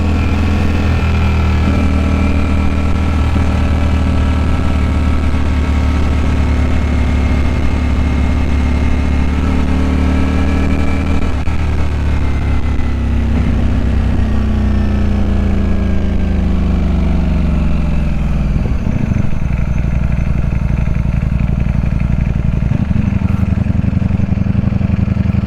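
Ducati Streetfighter V4S motorcycle engine running loud and close, revving with rising and falling pitch over a steady idle, no talk.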